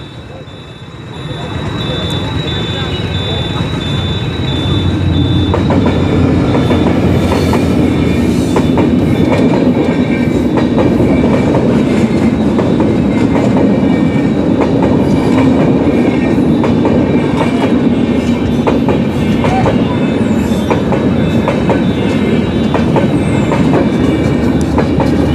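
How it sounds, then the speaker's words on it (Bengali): A train passes a closed level crossing with a loud, continuous rumble and clickety-clack of wheels close by, building up after a quieter start and holding steady. "অনেকক্ষণ অপেক্ষা করার পর ট্রেন চলে আসছে।"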